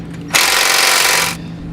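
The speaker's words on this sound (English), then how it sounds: "you're going to want to grab a 12mm socket, and we'll pull those out" A power tool with a 12mm socket runs in one loud, continuous burst of about a second while pulling bolts from the bumper beam of a 2009 Subaru Forester, with no talk.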